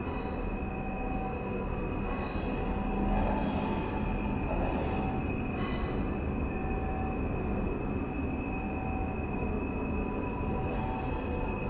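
A South Western Railway train runs on the Portsmouth to Waterloo line, heard from the driver's cab: a steady, loud rumble of motor and wheels with faint squeals and rail clicks, and no voices.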